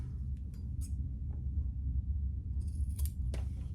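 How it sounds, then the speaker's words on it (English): Scissors trimming D-ring straps for a crossbody wallet, a few crisp close snips spaced apart over a low room hum, with a quick pair of cuts near the end. "Let me just cut them off a little."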